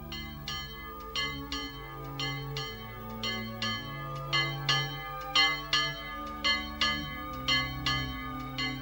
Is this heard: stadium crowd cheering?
no